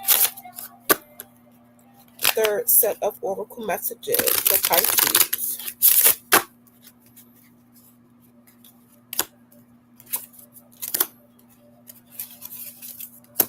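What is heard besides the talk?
shuffling a deck of cards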